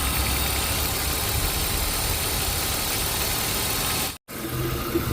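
Steady, loud engine running on a BMW with a failed fan clutch and a leaking head gasket, a continuous close mechanical roar with broadband fan noise, cut by a brief dropout near the end, no talk.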